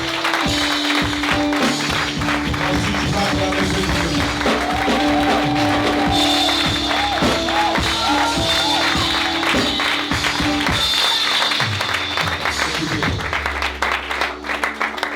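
Sustained applause from a large church congregation at an Easter service, steady and loud throughout, with music playing underneath and some cheering mixed in.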